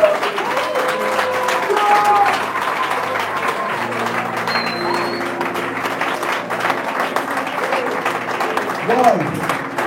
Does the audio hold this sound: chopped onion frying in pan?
no